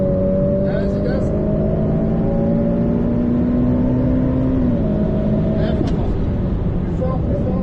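A Ferrari F8 Tributo accelerates hard on the Nogaro race circuit, heard from the cabin. The engine holds a loud, sustained drone whose pitch climbs steadily, with an instructor's voice faintly over it.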